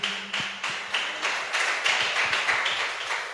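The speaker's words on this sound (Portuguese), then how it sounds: "Vamos aplaudir" A church congregation claps together in a steady rhythmic beat, about three claps per second, moderately close and without voices.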